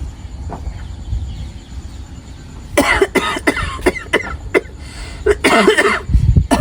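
A person coughs repeatedly in short, harsh bursts, close by, after a quiet stretch with low background noise.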